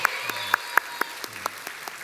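A church congregation at a Sunday morning service claps together in a steady, even rhythm of sharp claps about four per second, loud and unaccompanied by talk.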